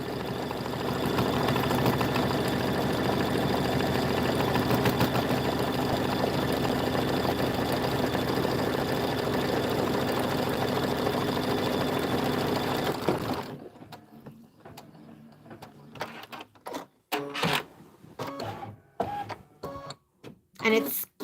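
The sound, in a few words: sewing machine stitching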